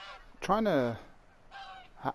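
Snow geese honking in a hunting video game: one loud, drawn-out honk followed by a fainter call and a short final note, alone without talk.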